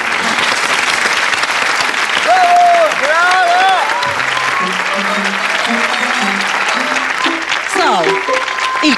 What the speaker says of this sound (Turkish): bir alkış da Esma Hanım için istiyorum